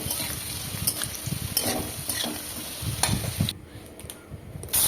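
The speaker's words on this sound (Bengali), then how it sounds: "আলুগুলো খুব বেশ ভালো করে ভেজে নেব" Potatoes dusted with salt and turmeric fry in hot mustard oil in a wok, giving a steady close sizzle with intermittent stirring scrapes and a brief quieter patch near the end.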